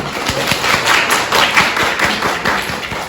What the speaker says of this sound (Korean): 황순영 이사장, 박장님한테 한번 박수 한번 주시죠